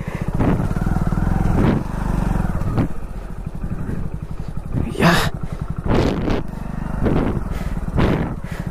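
A Hero 100cc motorcycle drones steadily on a long road ride, the small engine's low hum close and constant, with brief rushes of wind and passing noise breaking through at intervals.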